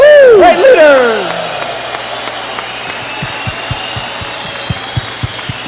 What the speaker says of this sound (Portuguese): let's have a round of applause now for your pearls and emeralds